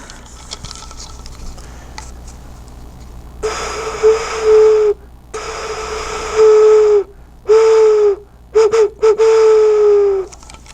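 Breathy, hooting tones from air blown through a straw across a bottle opening, imitating an owl call, sounding in several separate blows with short pauses.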